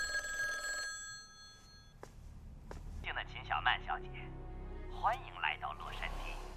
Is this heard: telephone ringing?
yes